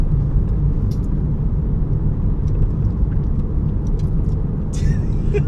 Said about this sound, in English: you might hear some road sounds because we're driving